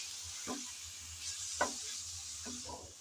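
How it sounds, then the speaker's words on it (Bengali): Bathua greens, boiled beforehand, sizzle and fry in a pan while being stirred, with a steady soft hiss broken by several brief scraping stirs close up. "শাক দিয়ে এখন নেড়ে চেড়ে ভালোভাবে মিশিয়ে নিতে হবে।"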